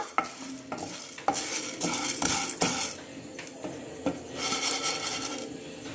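A spoon stirs idli podi ingredients as they dry-roast in a pan over a medium flame, making close scraping and rustling strokes with occasional metallic knocks against the pan.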